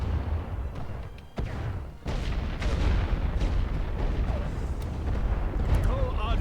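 Artillery barrage in the WWI game The Great War: Western Front, a dense run of booms and rumbling shell impacts that swells after a brief dip and stays loud and continuous, with crackling bursts throughout.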